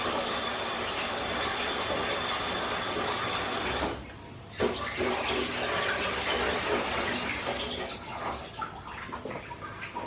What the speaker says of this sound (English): Give the carrots a wash